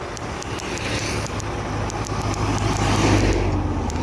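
Cars and other vehicles rolling past on a town-centre street in Brejo do Cruz, Paraíba, a loud, continuous traffic wash that swells as vehicles go by, heard from close, with no talking.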